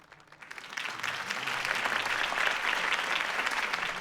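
Crowd applause after Harvey Dent's campaign speech in Batman: The Telltale Series, a dense wash of clapping that swells quickly from a quiet start and holds steady and full.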